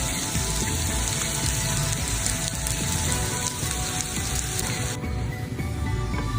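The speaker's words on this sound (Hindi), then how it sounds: "हम इसमें सोया सॉस डाल रहे हैं।" Loud steady sizzling of soy sauce hitting chicken fried rice frying in a hot pan, a continuous crackling hiss that thins out near the end.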